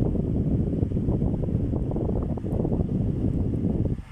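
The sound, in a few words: old Camel electric stand fan running at speed 3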